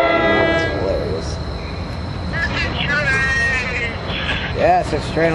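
A New Jersey Transit or Metro-North train rumbles past nearby with a steady broadband roar and metallic squeals, while people talk and react over the noise.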